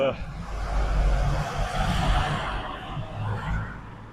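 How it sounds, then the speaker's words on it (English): A car approaches from behind in a road tunnel on the North Wales coast near Flint, a low droning rumble swelling and echoing around someone talking close by. "This car's coming behind us"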